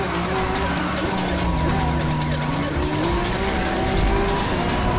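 In the Need for Speed Rivals video game, a car engine revs hard and climbs through rising, shifting tones, loud and continuous, with tire squeal and siren-like wails mixed in the game soundtrack.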